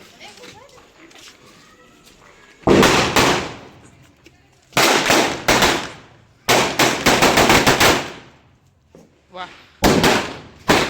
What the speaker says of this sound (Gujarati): જાય છે હવે ફટાકડા ફોડવા માટે